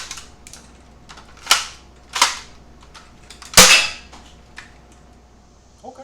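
A Gameface Prime dart blaster fires foam darts at targets set 50 feet away: three sharp, loud snapping shots spaced a second or so apart, with small mechanical clicks between them.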